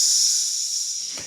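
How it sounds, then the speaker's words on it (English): A comedic cartoon-style steam release, a loud steady hiss held for just over a second with a short burst at the end, heard alone without any talk. "Don't comically release steam from your butt."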